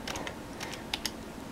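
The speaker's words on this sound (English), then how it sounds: "Let's type Logitech." Keys tapped on a Logitech MK260 wireless keyboard, a quick run of light plastic clicks with two sharper strokes near the end, close up and faint, with no talking.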